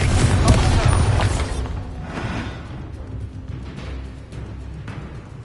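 Confringo fire spell in a video game, with a loud booming blast at the start that fades into a softer rumbling tail.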